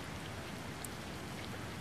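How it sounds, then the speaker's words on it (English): Steady, soft rain in the video game SimCity makes a dense, even hiss of falling drops that does not change, with no voices. "Oh, it's raining."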